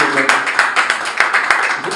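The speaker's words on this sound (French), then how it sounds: "Est-ce qu'on va applaudir ce projet?" Hands clap in a quick, regular rhythm at a music star's press conference, each sharp clap standing out. A voice carries on talking over the beat.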